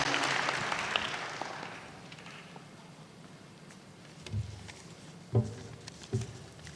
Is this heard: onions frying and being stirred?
no